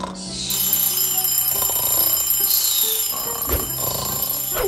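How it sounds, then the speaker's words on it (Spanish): A cartoon alarm clock rings continuously and loudly through the whole stretch in an animated princess show, a steady metallic jangle with no talk over it. "¿Por qué está sonando ese dichoso despertador?"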